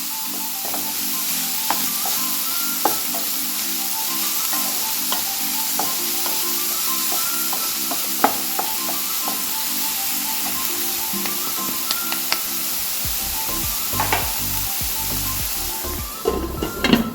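Cucumber curry cooking in a pan with carrots, a steady low sizzle and hiss running throughout, with occasional scrapes and knocks of a spoon being stirred, growing busier near the end.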